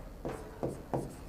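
Pen or chalk writing a heading on a surface: three short, close scratchy strokes evenly spaced about a third of a second apart, with no voice over them.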